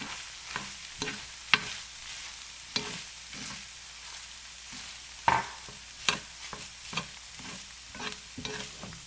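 Egg and pork frying in a pan for Polynesian fried rice, a steady close sizzle broken by sharp scraping and clanking strokes of a utensil against the pan, with no talking.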